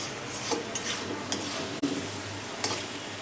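Potato and raw jackfruit being stirred and fried in spice masala in a pan, a steady close sizzle with scraping spatula strokes, no talking.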